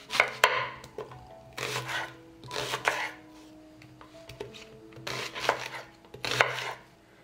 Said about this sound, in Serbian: Jedan crni luk iseći ću na krupnije komade.